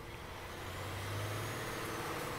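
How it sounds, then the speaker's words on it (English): A loud truck idles outside a commercial recycling center, a steady low engine rumble with a droning hum that swells slightly midway and holds continuously with no talk. "There's a loud truck outside, I think."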